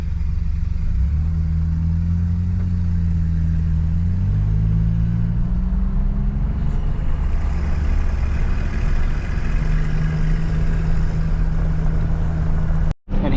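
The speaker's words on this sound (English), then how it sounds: "Taking the Chevy over, putting it away in the building" A Chevy truck drives slowly into a farm building, its engine a steady low rumble that holds near and constant before cutting off abruptly at the end; no talking.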